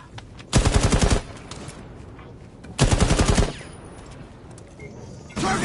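Two loud bursts of automatic gunfire in the video game Rainbow Six Siege, each lasting under a second, separated by quiet, with a third burst starting at the very end.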